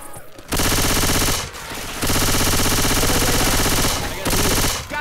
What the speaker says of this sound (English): Can we stop shooting each other?